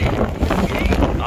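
Strong wind blows across the top of Mullayyanagiri hill in Chikkamagaluru, Karnataka, in rainy weather, a brief, loud, rough rush buffeting close by.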